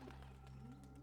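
Doves cooing in cubby holes in the video game Blue Prince, soft low steady cooing with light chirps over a constant ambient hum, close and continuous.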